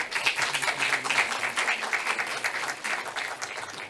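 An audience at a microelectronics panel event applauds the panel speaker, sustained dense clapping that holds steady and close for the full length, with no talk over it.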